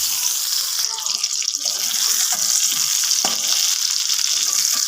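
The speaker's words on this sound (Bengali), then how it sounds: "এবার টমেটোগুলো আমি ভেজে নেবো, এভাবে উল্টে উল্টে দিয়ে দেবো তেলের মধ্যে।" Tomatoes fry in oil in a kadai over a low gas flame, giving a loud, continuous close-up sizzle and crackle with a few small pops and no talk.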